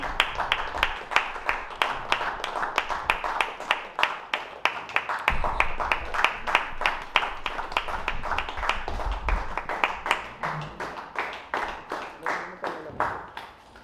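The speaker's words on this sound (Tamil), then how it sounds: "எங்கே மீண்டும் ஒருமுறை இவர்களுக்கு உங்கள் உற்சாகமான கரகோஷம்." Rhythmic applause at a Tamil poetry book launch, many people clapping in unison with a steady, regular beat that carries on for over a dozen seconds before tapering off.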